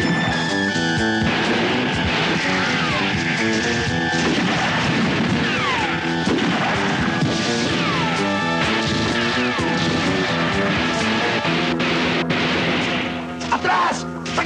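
Firecrackers set off in a 1986 Filipino action film, a dense run of cracks and bangs under a steady loud music and effects soundtrack, continuous throughout.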